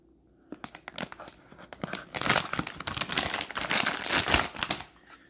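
A TEGE holster package is torn open by hand, with close, crisp crinkling and tearing of packaging in irregular bursts that build to a dense rustle before tapering off.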